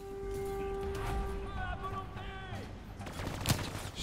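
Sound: gunfire from Call of Duty Black Ops 3 video game

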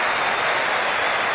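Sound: crowd applause in video game PES 2007

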